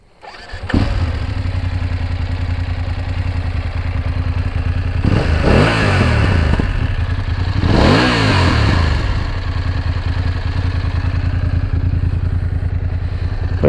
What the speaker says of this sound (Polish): to jeszcze standardowo zrobimy brzmienie motocykla